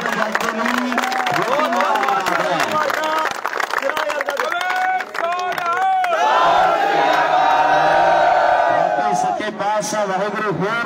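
A crowd at an honour ceremony roars with overlapping shouts and cheers, a dense, loud wall of voices that never lets up, with some claps blended into the din.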